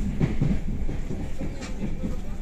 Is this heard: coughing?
no